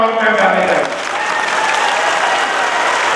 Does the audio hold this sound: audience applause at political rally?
yes